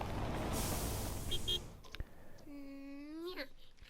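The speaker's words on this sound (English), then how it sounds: "Now a truck will come and deliver it." In the Little Big Workshop game, a delivery truck arrives with a hissing air brake burst, a thump, then a short tonal chime, all fairly faint.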